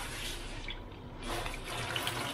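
Water runs steadily from a household tap fed by PAM mains supply, a continuous broadband rush with a brief dip mid-way before flowing strongly again, close by and alone.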